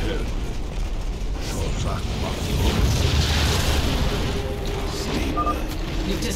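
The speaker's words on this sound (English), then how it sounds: "You've destroyed another cannon, I see." A Tal'Darim cannon is destroyed in StarCraft II: Legacy of the Void, heard as a rumbling boom and a swell of mechanical crunching inside a dense, continuous bed of game battle sound.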